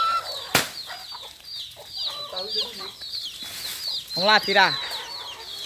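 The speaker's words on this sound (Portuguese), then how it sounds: "Aí, gente, as galinhas aqui. Se alimentando com banana também." Chickens cluck and squawk on a farm, with a run of nearby clucks, a sharp knock and a loud burst of calls near the end, while someone speaks briefly in between.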